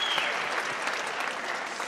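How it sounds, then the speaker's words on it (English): Steady audience applause at a pageant, a dense, even wash of clapping that holds at moderate loudness for the whole stretch, with no clear speech. "Another round of applause for Jamie"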